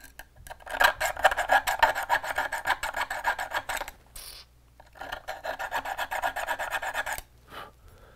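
A hand file rasps rhythmically against metal spurs in close, rapid strokes, two long bursts separated by a short pause.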